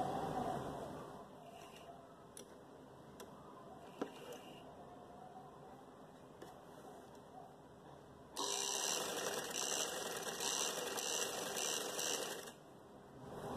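A sewing machine stitches a single-folded trouser hem to hold elastic, humming quietly at a steady pace, then jumping louder for a few seconds of faster stitching before easing off.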